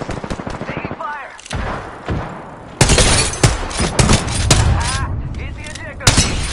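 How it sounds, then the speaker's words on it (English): Rapid bursts of automatic gunfire and sharp single shots in the Apex Legends battle royale, loud and close, clustered in dense volleys with brief gaps, with a voice speaking over parts of the firefight. "Taking fire."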